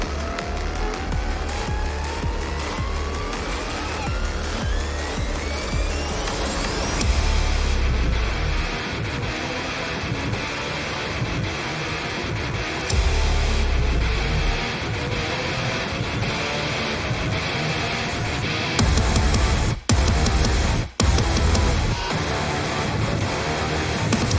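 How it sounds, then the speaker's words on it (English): A Doom soundtrack piece plays loudly, with buzzy, sheet-metal distorted guitar, harsh treble, sweeping pitched tones and pounding low drops, interrupted by a couple of sharp silent breaks late on. "it's a very like sheet metal guitar sound, buzzy, with some heavy trebly stuff"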